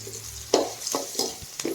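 Tempering spices with turmeric fry in hot oil as a spoon stirs them, a soft sizzle under a few close, irregular scraping strokes.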